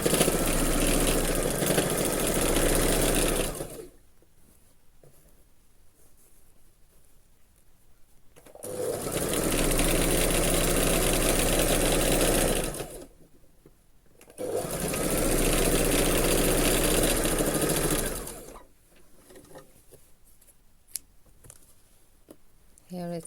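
A sewing machine stitching a sleeve onto a dress, three long loud whirring runs of steady motor hum separated by quiet pauses, close up.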